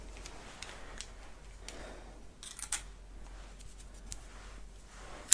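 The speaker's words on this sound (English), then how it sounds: "So we have our scissors to cut away" A few sharp metallic snips of scissors, spaced irregularly against a quiet background, with one louder crisp cut at the end.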